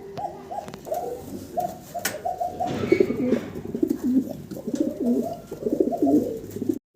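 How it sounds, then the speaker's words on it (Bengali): A large pair of Lahori pigeons coo close by in repeated low, throaty bursts, several overlapping calls rolling along steadily, with faint background clatter. "সড়ো বিশাল সাইজের এক জোড়া লাহোরি কবুতর।"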